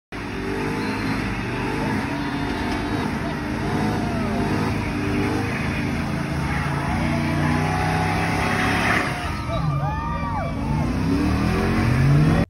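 Loud engines rev and roar continuously at a car show, with pitch swelling up and down near the end, over a noisy crowd of voices.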